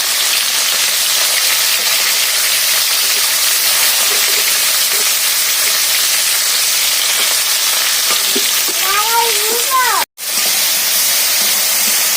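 Fish sizzle steadily in hot oil in a wok, a dense, continuous frying hiss that fills the scene, with a brief voice near the end and a short break in the sound.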